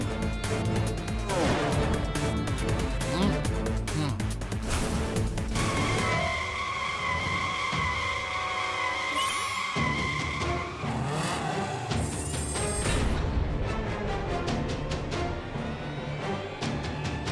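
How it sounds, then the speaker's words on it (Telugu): A cartoon race car driving very fast, with a loud roaring engine, long screeching tire skids and whooshing effects over busy animated music, close and continuous. "వాడు చాలా వేగంగా కార్ని డ్రైవ్ చేస్తున్నాడు"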